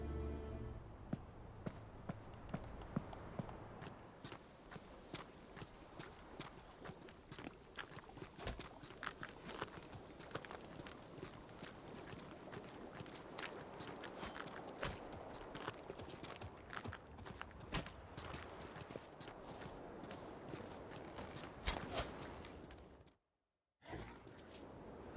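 Horse hooves clip-clopping on the ground in The Witcher 3, a steady rhythmic run of close hoofbeats lasting most of the stretch, with brief gear-like rustles and a short silent gap near the end.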